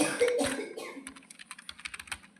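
Typing on a computer keyboard while entering a company name into accounting software: a brisk run of separate key clicks, close and clear, following a brief muffled movement at the start, with no voices.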